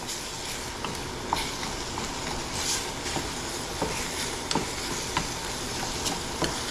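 Pork and beans melt down in a hot pan with a continuous, even sizzle, broken by small crackles and pops, close and unbroken.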